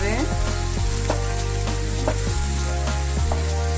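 Vegetables sizzling and frying in a pan while cooking cheesy cup macaroni, a continuous loud hiss with occasional stirring scrapes and soft clatters, close and steady with no talk over it.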